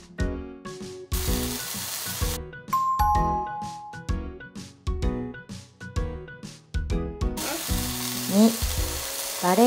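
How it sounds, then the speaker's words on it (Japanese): Thin slices of potato, lotus root and mushroom frying over medium-low heat in an oiled pan, soft sizzling punctuated by clinks and bright musical tones, with no speech. "油を敷いたフライパンで弱めの中火で両面を焼きます"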